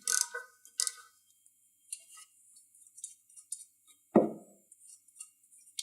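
A small ratchet with a short extension and 10 mm socket works a lower exhaust bolt on a Peugeot Speedfight scooter, giving sparse metallic clicks and ticks, with one louder clunk partway through in a quiet room.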